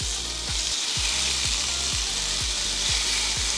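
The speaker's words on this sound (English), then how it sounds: "I love the sound of that sizzle" Meat sizzles on a hot grill with a steady broadband hiss, punctuated by rhythmic low thumps about every half second, loud and close with no talking.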